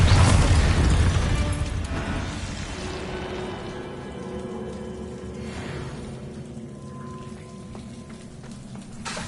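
A Bombarda explosion spell bursts in the Hogwarts Legacy video game, loud and booming at the start with crackling debris, then fading into a rumbling, rain-like patter and a lingering low hum.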